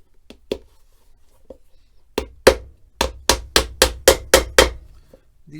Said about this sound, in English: All we got to do is put our nails from the inside to secure that heel base on.